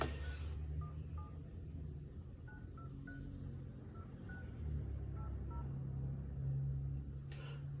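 Phone number being dialed from inside a car, short tone beeps in irregular clusters over a steady low rumble of the vehicle, with brief bursts of noise at the start and end.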